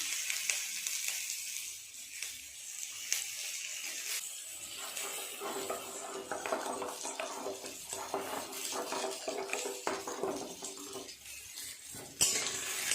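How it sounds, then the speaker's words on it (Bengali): Vegetables, including eggplant, fry in hot oil in a pan with a steady crackling sizzle, mixed with clinks and scrapes of a utensil stirring against the metal. No one speaks. "সবজিগুলো ভাজা হয়ে গেছে, তুলে নেব।"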